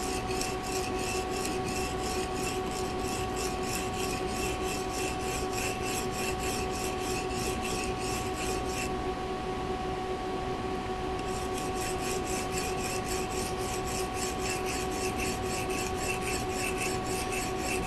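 A Japanese-made stainless steel knife drawn across an India stone with very light pressure, giving a steady, continuous rasping scrape that runs unbroken and close, with a brief softer stretch partway through.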